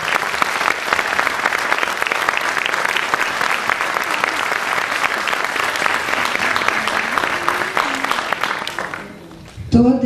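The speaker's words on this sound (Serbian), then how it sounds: "pa jedan aplauz za njega" A library audience claps steadily for a poet for about nine seconds, the applause fading out before a voice begins speaking at the end.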